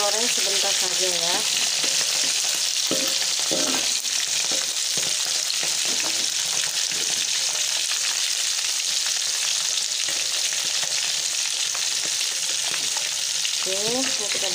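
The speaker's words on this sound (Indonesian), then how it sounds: "Kita goreng sebentar saja ya." Fish sizzles and crackles in hot oil for steamed-fish taucho, a steady close, loud frying hiss lasting throughout with occasional stirring clinks and no talk.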